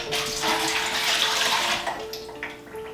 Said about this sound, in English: So let's get some water in it right now.